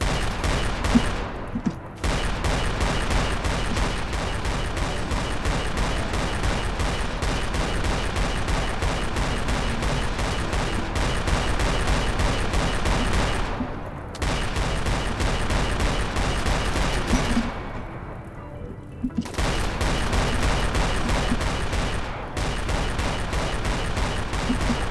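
Sustained heavy gunfire fills a RimWorld battle, rapid overlapping shots in a continuous loud fusillade with only brief gaps, almost no talk.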